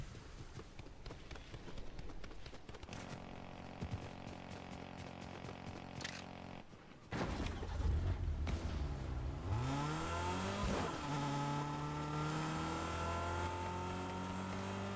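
Car driving in Fortnite, a steady engine drone that shifts into a louder, rising whine with pitch sweeps as the vehicle speeds up, alongside other game sounds.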